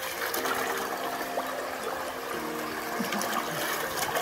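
River water running beside a spot used for washing in the mountains, a steady close rush and splash with small trickling details, no talk.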